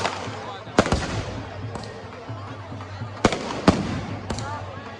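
Firecrackers burst at an outdoor Dussehra celebration with Ravan effigy burning in Budhlada: several sharp, loud bangs at irregular intervals over crowd noise and a voice speaking through a loudspeaker.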